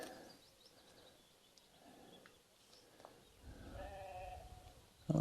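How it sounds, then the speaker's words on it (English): Sheep bleat outdoors beside Blea Tarn, a lake in the Lake District: a few faint, distant calls over quiet open-air background, growing slightly louder toward the end. "Oh, the sheep are up now."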